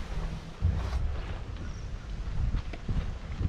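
Gusty wind rumbles against the microphone with low, uneven buffeting and a few soft knocks, fairly quiet overall.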